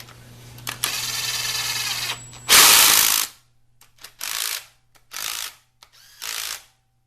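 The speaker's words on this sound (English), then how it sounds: "Now we can tighten up these 2 bolts." A ratchet tightens bolts on a 4L60E automatic transmission during a rebuild: a long buzzing ratchet run, then a loud burst and four short, even clicking bursts with brief pauses between, close and clear.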